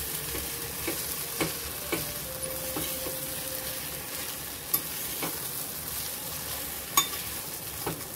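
Spiced pea filling for matar kachori sautés in a pan with a steady sizzle, punctuated every second or so by the sharp scrape and tap of a spoon stirring, no voices.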